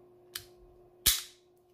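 Two sharp shots ring out from a gas-powered Colt or Hi-Capa airsoft replica pistol, a lighter snap followed by a louder crack about three-quarters of a second later, over a faint steady hum.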